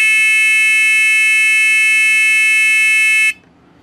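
A Little Giant condensate pump alarm gives one loud, steady, piercing electronic buzz for about three seconds before cutting off abruptly, leaving only faint background hum.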